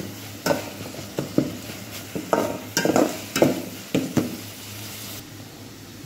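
Onions frying in a pan for mutton pulao, a steady sizzle broken by a series of sharp scraping stirs from a spatula, close and fairly loud.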